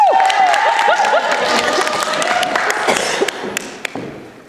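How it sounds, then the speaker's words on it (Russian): Applause from a crowd at a student freshman initiation event, dense and steady clapping at moderate volume with a few louder thuds, thinning slightly toward the end. "Аплодисменты!"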